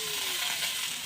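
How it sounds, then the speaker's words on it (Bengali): Fried potatoes added to a frying fish head in hot oil, a steady bright sizzle close by, continuous and even for a brief moment. "এবার ভেজে রাখা আলুটা দিয়ে দেবো।"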